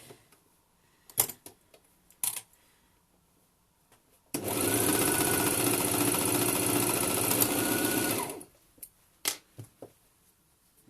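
A sewing machine stitches a straight shoulder seam on a bralette with right sides together, one steady close whirring run of about four seconds, set between scattered handling clicks and taps.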